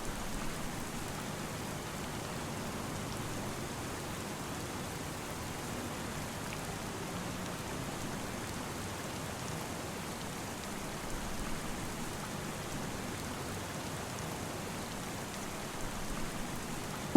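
Steady rain falling on a farm in Farming Simulator 25, a constant dense hiss of drops with no breaks, even in level throughout and heard alone without talk.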